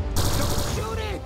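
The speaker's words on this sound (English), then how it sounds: "Oh my god, he's shooting!" Loud, dense gunfire rattles continuously in the video game GTA 5, a harsh wash of rapid shots filling the short moment up close.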